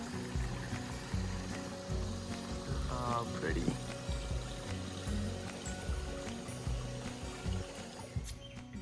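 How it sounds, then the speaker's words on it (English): A river flows in a steady, close rushing stream with continuous pouring and churning water on rural land. A person speaks briefly over the water sound. "Finally made it down to the river."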